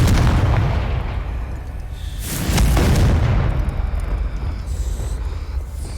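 A Confringo spell blast in Hogwarts Legacy, a loud deep boom that swells and rolls on for several seconds with a heavy rumbling tail, close and dominant.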